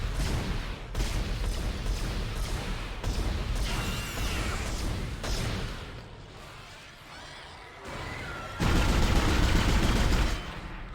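Gunfire in Dead Space aimed at small enemies: repeated sharp shots in quick bursts, with louder blasts near the end and game sounds between, no talking.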